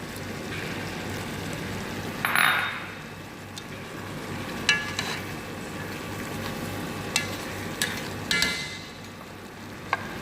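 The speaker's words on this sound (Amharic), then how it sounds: "አሁን እንደዚህ ካለ በኋላ ነጭ ሽንኩርቱን እጨምራለሁኝ" Chicken frying in a pan as garlic is added for a Dubai-style muchibus chicken dish, a steady soft sizzle with a brief louder hiss burst and a few small clicks and taps, no voices.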